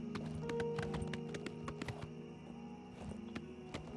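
Rapid clip-clop of horse hooves trotting steadily in The Elder Scrolls IV: Oblivion Remastered, close and clear, with a brief whinny and a game music drone underneath.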